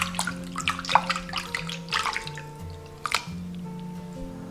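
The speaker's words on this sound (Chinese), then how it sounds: "然后给它清洗干净。" Shrimp are rinsed clean under a running tap, with water splashing and dripping close by and uneven wet spatters over a steady, tonal flow. No one speaks.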